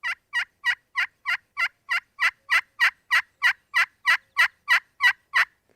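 A pot-and-peg turkey call is worked to mimic an excited hen, giving a rapid series of about sixteen sharp yelps. The yelps are close and evenly spaced and stand alone, growing slightly louder as the series goes on.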